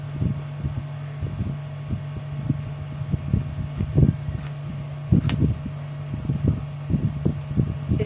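Scissors cutting away extra fabric near buckram on a garment neckline, a run of quick, close snips repeating at an uneven rhythm over a low, steady hum.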